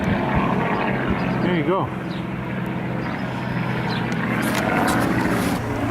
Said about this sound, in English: It's like a Sopwith Camel and a Fokker triplane.